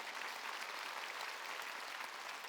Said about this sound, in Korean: 깨달은 사람만 박수 쳐야 돼요